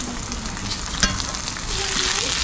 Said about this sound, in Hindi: प्याज को भी नरम होने तक बढ़िया से भूनेंगे